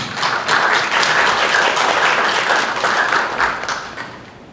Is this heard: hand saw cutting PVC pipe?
no